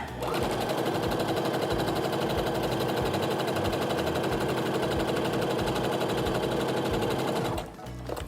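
Home sewing machine stitching long rows of joined quilt blocks, a loud continuous motor whir with rapid needle chatter running steadily for about seven seconds before stopping abruptly.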